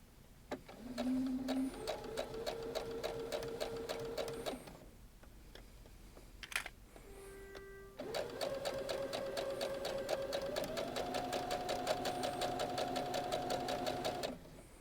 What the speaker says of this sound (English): sew all the way around just as we did when we stuck them together